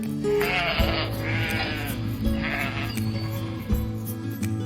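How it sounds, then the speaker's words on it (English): A sheep bleats in several wavering calls at moderate loudness over a steady farmyard background, with no talking. "sheep."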